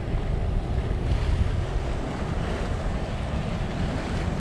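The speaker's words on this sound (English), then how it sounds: "The town dock with waves breaking over it like we've seen earlier on." Rough sea slaps and washes around a town dock seen from a sailing yacht, a loud, steady churning wash mixed with wind buffeting the microphone, with no voices.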